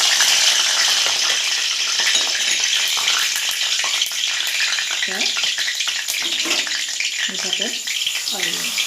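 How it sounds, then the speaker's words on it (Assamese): Onion and a few bay leaves fry in mustard oil for an Assamese-style chicken dish, giving a constant hissing sizzle with watery crackles and occasional stirring, while a voice speaks faintly in the background. "মিঠাতেল আৰু পিঁয়াজ দি দিছোঁ"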